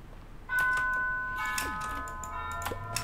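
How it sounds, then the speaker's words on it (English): Doorbell chime in a modded Minecraft game, Vault Hunters with the Create mod, ringing out as a couple of clear tonal dings over a low steady hum, moderately loud with no talk. "There's my doorbell."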